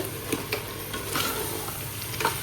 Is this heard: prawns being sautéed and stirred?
yes